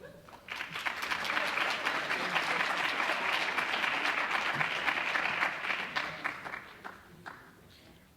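A celebration audience bursts into dense, sustained applause that swells, holds steady for several seconds, then thins out toward the end.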